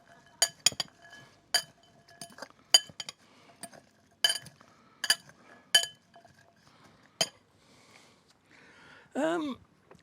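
A spoon clinks sharply against a bowl while an apple, celery and nut salad is mixed, a dozen irregular bright taps, close and fairly quiet, followed by a short scraping swirl near the end.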